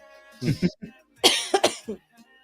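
A person coughs in two short clusters of harsh, throaty bursts, close and fairly loud, with a bit of throat clearing, in a room with the air conditioner on.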